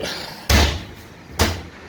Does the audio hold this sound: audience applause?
no